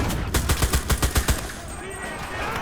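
Rapid automatic gunfire from the video game Enlisted, a burst of roughly ten sharp cracks in quick even rhythm followed by a ringing tail, near and loud, with a voice speaking faintly.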